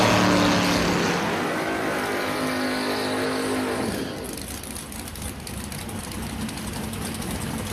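Drag racing cars, a Ford Mustang and a Chevy Nova, roar loudly at full throttle down the strip, a sustained engine blast that drops in level about halfway as they pull away.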